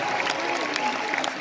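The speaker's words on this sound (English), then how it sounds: "Please give yourselves a huge round of applause" Concert audience at a show claps in a brief burst, a wash of applause at moderate level with scattered individual claps and faint voices.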